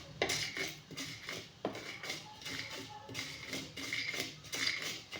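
Mustard seeds and urad dal splutter in a deep frying pan, giving rapid irregular pops and crackles mixed with light metallic scrapes of a spoon against the pan, close and fairly quiet.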